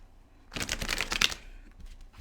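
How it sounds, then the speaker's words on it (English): Tarot cards shuffled at close range in one quick riffling burst of rapid crisp flutters lasting about a second, then quiet with faint rustling. "All right, shuffle the cards."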